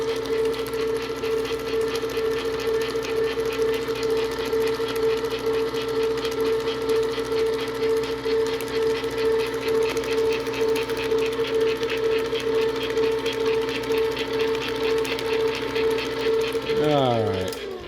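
An electric mixer whirs steadily through dirt pudding batter, a close, even mechanical hum with a fast rhythmic rattle that winds down at the end.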